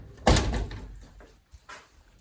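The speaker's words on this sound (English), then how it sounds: "I gotta go slow on this door or it's gonna slam like this" A house door swings shut with a single loud slam, a sharp broadband thud followed by a brief rattle and a softer knock, heard close in a 120-year-old home during basement renovation work.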